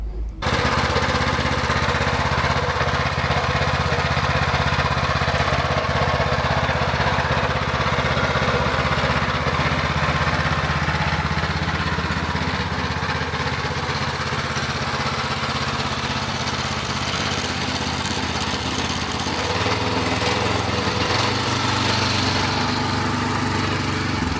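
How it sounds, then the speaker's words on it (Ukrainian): The 8-horsepower petrol engine of a Weima Deluxe WM1100C6 walk-behind tractor runs loudly and steadily for the whole stretch, a constant buzzing drone with a slight dip in pitch near the end. "мотоблок з бензиновим двигунчиком на 8 кінських сил"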